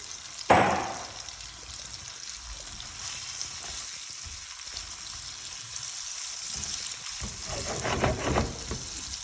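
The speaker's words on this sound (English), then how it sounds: "So now the butter's melted, I'm just putting the paneer in to fry" Paneer pieces drop into melted butter with a sharp splash and then fry in a steady, close sizzling crackle that swells again toward the end as the pan is stirred.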